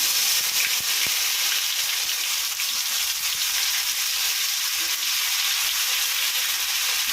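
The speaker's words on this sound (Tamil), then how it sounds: "இப்போ அரைச்சி ஊற்றுறோம்." A ground onion, tomato and coconut paste goes into a hot pan, giving a loud, steady hissing sizzle that continues evenly throughout, with no talking.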